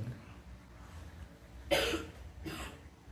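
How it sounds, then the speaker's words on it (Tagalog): A child coughs indoors at home, two short harsh bursts about a second apart over quiet room noise, the first louder than the second. "may ubo yung anak ko"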